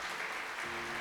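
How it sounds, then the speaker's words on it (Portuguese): A church congregation applauds during a Portuguese-language Sunday service, a brief, soft, even wash of many hands clapping at a distance. "Aplauda Ele que é digno."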